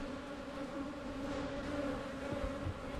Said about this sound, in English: The box certainly appears full of bees, and you can see the nectar glistening in this frame.